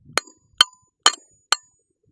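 Four light hammer taps on an excavator thumb pin, sharp metallic clinks spaced about half a second apart, close and alone with no talk between them.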